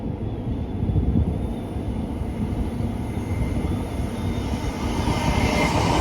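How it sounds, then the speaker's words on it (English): Royal Mail train passing Bletchley station, a steady broadband rumble and roar of a rail vehicle moving through at moderate distance, continuous and fairly loud throughout with no talking. "this is going to be the Royal Mail train running from Shildemere to Wilston"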